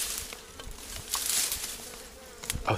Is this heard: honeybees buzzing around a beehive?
yes